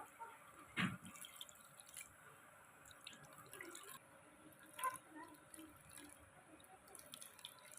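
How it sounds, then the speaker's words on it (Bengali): Water splashes and drips while ripe mangoes are washed, with intermittent trickles and wet handling sounds. One sharp splash comes near the start and another midway, all fairly faint and close. "ভালো করে আমগুলিকে পরিষ্কার করে ধুয়ে নেব"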